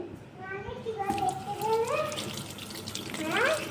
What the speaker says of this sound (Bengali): স্ট্রবেরিগুলো একটু ধুয়ে নিই